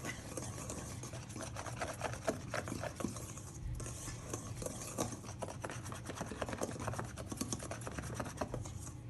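Salt, black pepper and parsley being whisked in a bowl for homemade baked naan: a quiet, rapid, steady scraping and rubbing of the whisk against the bowl, close up with no talking.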